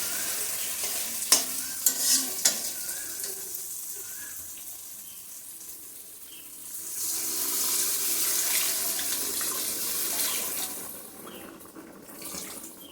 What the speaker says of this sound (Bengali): এই পর্যায়ে আমি এখন জলটা দিয়ে দিতে পারবো।